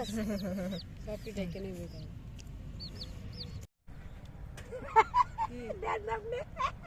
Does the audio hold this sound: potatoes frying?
no